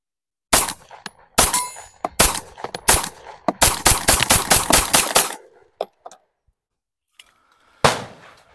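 Rapid 9mm pistol shots from a Tisas 1911 Carry handgun, a string of about a dozen sharp loud reports in quick succession followed by a couple of isolated shots and a final burst, with no talk.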